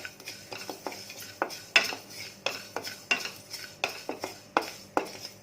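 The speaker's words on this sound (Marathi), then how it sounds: "तीळ आता तडतडायला लागले।" Sesame seeds roasting in a pan, crackling and popping close up in a steady run of sharp little bursts, with a spoon scraping and stirring through them and no voices.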